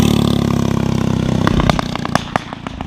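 A go-kart engine runs loud and close with a fast, buzzing, steady throb that turns choppy and uneven toward the end, broken by sharp clattering knocks.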